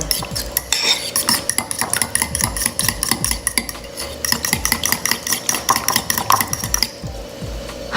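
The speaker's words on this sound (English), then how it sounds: "And then mix all of that together." A utensil whisks and clinks against a bowl while eggs and other ingredients are mixed into a homemade hair mask, rapid rhythmic scraping and tapping, close and loud, stopping near the end.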